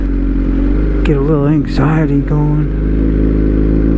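A vehicle engine idles low and smooth, a steady deep rumble that runs throughout while someone talks over it close by.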